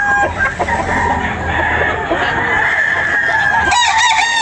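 Roosters and chickens at a Philippine farm animal market, one rooster crowing loudly and close over a bed of clucking and crowd noise, with a second crow rising at the end.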